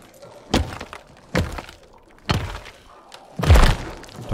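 Explosions and crashing impacts in the video game Dying Light 2 Stay Human: four separate heavy thuds land about a second apart, the last the loudest with a deep booming rumble, alone without talk.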